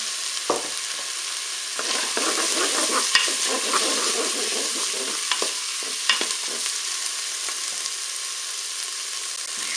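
Bell peppers and meat pieces frying in a Cookeo multicooker on its browning setting, a steady loud sizzle with intermittent scraping stirs of a spoon against the pot.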